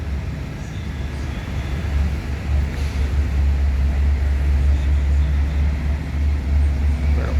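A Sari Mustika bus pulls in, its deep engine drone rumbling low and steady, growing slightly louder as it nears, with faint traffic and background bustle around it.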